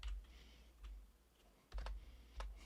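Quiet, close clicks of keys being typed on a computer keyboard in short irregular bursts, with low background hum and no talking.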